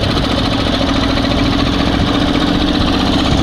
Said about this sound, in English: So we are now on a one cylinder. One cylinder is an idle.